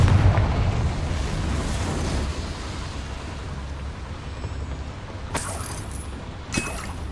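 In Hogwarts Legacy, a Confringo spell goes off as a loud booming blast that slowly rumbles away, followed by two sharp bright cracks near the end.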